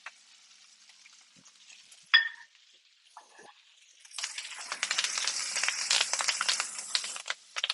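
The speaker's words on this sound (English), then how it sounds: "that's when we put the arugula in" Arugula tossed into a pan with confit garlic, a few quiet clinks and rustles at first, then a sudden burst of crackling sizzle and stirring that continues to the end.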